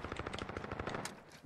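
Rapid automatic gunfire from an MP5 submachine gun in a first-person shooter game, a continuous quick-rhythm burst fairly faint in the mix.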